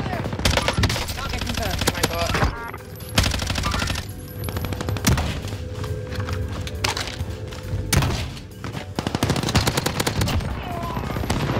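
Automatic weapon fire in Warzone, long rapid bursts of loud, close shots separated by brief pauses, with game sounds and a voice speaking between the bursts.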